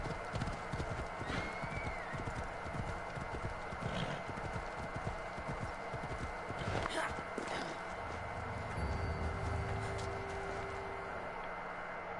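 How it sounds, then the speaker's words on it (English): A horse gallops in the video game Assassin's Creed Odyssey, its hooves pounding in a steady, rapid clip-clop throughout. A short whinny and some faint background voices come through the hoofbeats. "I love it when you're able to mount a horse while running."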